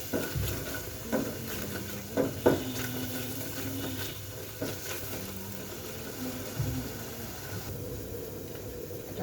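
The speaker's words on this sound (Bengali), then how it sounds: "মশলাটা কষে নেব।" Spices with garlic paste are sautéed in a pan, a soft sizzle with intermittent scraping and knocks of a spoon stirring, and a faint hum underneath.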